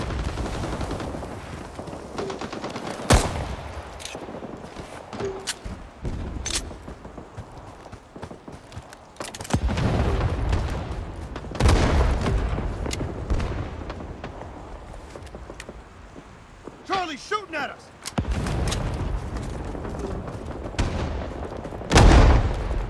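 Gunfire in the Vietnam War shooter Rising Storm 2 comes as scattered bursts and single loud shots, some near and some distant, over a constant battlefield rumble with brief gaps between volleys.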